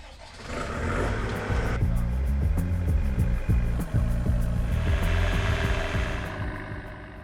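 A mobile elevating work platform driving along, its engine a steady, fairly loud drone with shifting mechanical tones and a rise in noise near the end.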